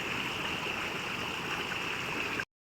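A fast-flowing stream where crabs are sought, a dense, steady rushing and gurgling of water heard close and loud without pause until it cuts off abruptly.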